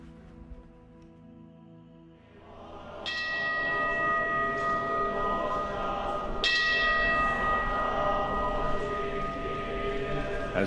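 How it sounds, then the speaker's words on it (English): Large temple bells ring out over Kyoto at sunset, two strong strikes about three seconds apart, each blooming into a long shimmering hum that hangs over a low, steady background. "the neighborhoods resound to the chanting of sutras and the ringing of temple bells"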